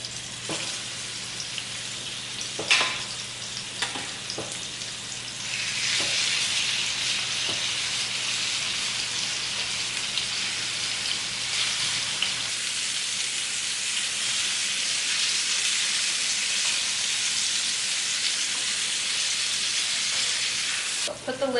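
Chicken fries in oil in a pan with a loud continuous hissing sizzle that swells and holds steady after a few early clanks of cookware.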